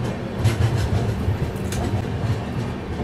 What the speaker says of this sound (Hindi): शाहजहाँपुर जंक्शन के प्लेटफॉर्म नंबर 1 पे अपना अराइवल हो रहा है।